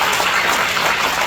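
An audience at an economics lecture gives a round of applause, a dense, continuous hiss of many hands clapping that sounds almost like heavy rain, steady and fairly loud throughout.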